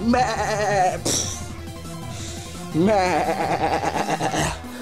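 Mareep, the wool sheep Pokémon, gives its cry in a video game battle: two loud bleating calls with a wavering, sheep-like tone, separated by brief game sound, standing alone without talk.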